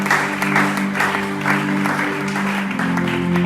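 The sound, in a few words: congregation applauding and cheering for the Lord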